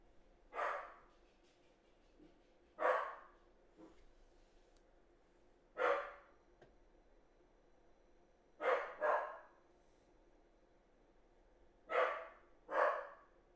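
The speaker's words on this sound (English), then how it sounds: "Sorry, the dog's barking, guys." A dog indoors barks in spaced single and double bursts, about seven barks separated by quiet gaps, moderately close against a faint room background.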